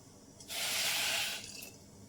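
Water poured from a vessel onto powdered jaggery, a brief close splashing pour of about a second that then stops.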